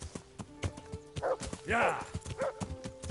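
Horse hooves clip-clop in a steady rhythm in the video game Kingdom Come: Deliverance, close and fairly loud, while someone speaks briefly over them.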